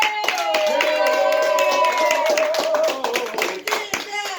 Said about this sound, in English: Clap it up for Willie!